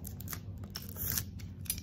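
Scissors snipping through craft material while building a prop syringe, a soft scraping rustle with faint repeated cuts, close by and steady, no talking.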